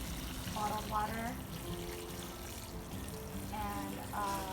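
Bottled filtered water trickles from a bottle into a potted Monstera deliciosa cutting, a soft, steady splashing and gurgling pour with a few brief glugs, faint under background noise.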